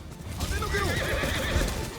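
During a mounted charge in Ghost of Tsushima on Iki Island, a horse gives a loud, wavering whinny over the rapid clip-clop of galloping hooves, with game noise behind it.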